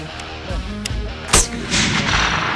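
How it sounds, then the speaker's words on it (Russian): Test shots from a 7mm Remington Magnum hunting rifle outdoors, a couple of sharp booming reports with rolling echo, loud and close, no talk heard. "обязательно нужно пару выстрелов сделать, чтобы понять, насколько ушел ноль"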